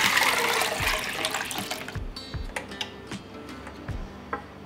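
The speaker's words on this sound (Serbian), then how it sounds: "I preko šećera ću sipati 2 litre vode." Water poured over sugar into a pot, a loud gushing pour at first that tapers off into scattered clicks and light knocks of the pot.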